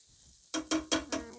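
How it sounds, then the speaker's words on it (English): Onions stirred in a pan for a low-carb braised cabbage dish, four quick scraping, sizzling strokes in steady succession after a brief near-silent pause, close and fairly soft. "let's stir these onions"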